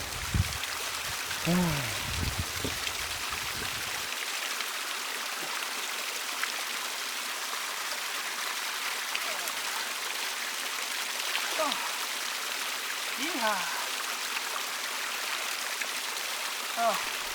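A mountain stream high on a hillside near Sgurr na h Aide and Carn Mor gives a steady, hissing rush of flowing water throughout, with a few louder splashes and rustles near the start.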